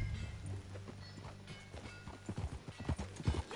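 Rhythmic clip-clop of horse hooves on hard ground in the video game Red Dead Redemption 2, growing louder and more distinct toward the end, over a low steady background hum.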